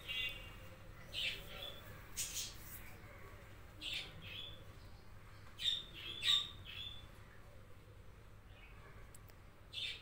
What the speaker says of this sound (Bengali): বক পাখি দেখে যান